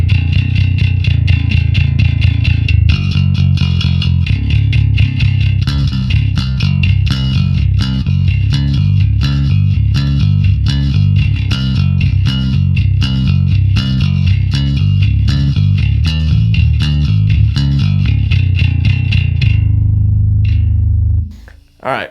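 A 4-string multi-scale Cooper bass plays a sustained, dense riff through distortion and chorus effects on the neck pickup, loud and continuous before cutting off abruptly at the end.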